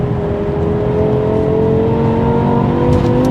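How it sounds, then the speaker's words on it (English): A 500 hp V10 BMW M5 engine revs hard under acceleration, a loud, steady, close-up roar with a rising harmonic whine from the ten cylinders, heard alone without talk. "This car loves to be hammered on, and it loves to go fast."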